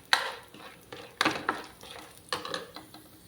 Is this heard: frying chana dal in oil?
yes